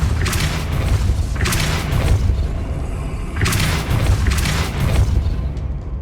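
Three loud, deep thumping blasts of the Depulso spell in the Hogwarts Legacy game, each a crackling burst that rolls off over a second or so, close and full, with no voices.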